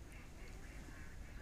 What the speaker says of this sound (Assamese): গোটেই শেৱালি হাঁহ একদম গোটেই পাৰটো ভৰ্তি হৈ থাকে